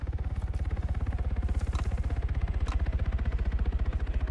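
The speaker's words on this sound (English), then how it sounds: "Helicopter, southeast." A helicopter in the video game Arma 3 thumps with fast, regular rotor pulses, steady and fairly close throughout, with faint radio-like voices underneath.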